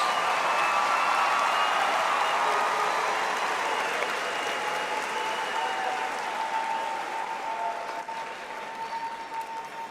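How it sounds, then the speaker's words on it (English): Applause at a spring graduation ceremony for doctoral graduates, a broad, steady clapping from a large audience in a hall, sustained and gradually thinning toward the end, with no voices over it. "Please join us in extending another round of applause for our doctoral graduates."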